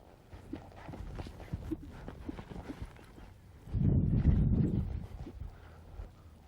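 A horse walks while working buffalo calves, its hooves giving soft irregular clip-clops close by, joined midway by a louder burst of rumbling wind-like noise before the steps continue faintly.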